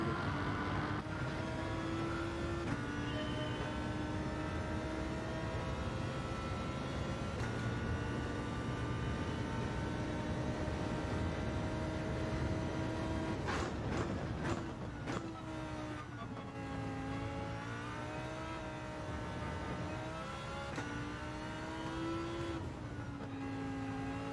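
A Porsche 92 race car on a test lap in Gran Turismo 7, its engine revving up and down through gear changes with rising and falling whines and a sharp drop midway, loud and continuous with no voices.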